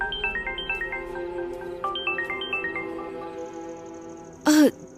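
A phone ringtone plays in a movie scene, a repeating electronic melody of short bright tones that loops steadily, briefly broken by a sharp burst of noise near the end.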